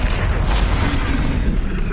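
A Confringo blast from the Hogwarts Legacy spellcasting game, a booming burst that rolls into a dense, rumbling roar with no voices over it.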